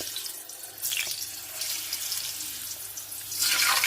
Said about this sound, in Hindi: अब हम इन्हें जल्दी जल्दी से डालेंगे। तेल हमारा फुल गरम हो गया है।